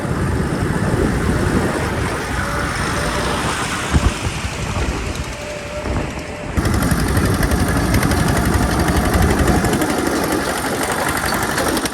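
Three tractors, among them an Eicher 485 and a Mahindra, run with steady, loud engine noise close by. The engines rumble without pause and the pitch shifts slightly partway through.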